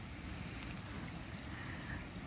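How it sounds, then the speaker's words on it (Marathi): The Lech river babbles near the Lech waterfall in Füssen, a steady, close rush of flowing water with no voices. "नदीचा खळखळता आवाज."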